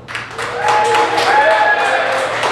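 A burst of audience clapping at a comedy magic show, mixed with whoops and cheering voices, loud and close, lasting a couple of seconds.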